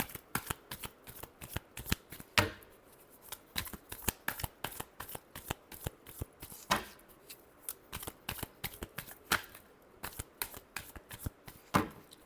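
Tarot cards are shuffled by hand in a quiet room, a rapid series of crisp, papery riffles and flicks with a few louder slaps, steady and close with no talk over them.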